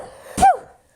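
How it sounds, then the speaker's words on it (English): A single sudden sneeze or cough-like burst from a woman indoors, loud and close, with a sharp onset, a brief voiced tail and quiet room tone on either side. "I have to sneeze."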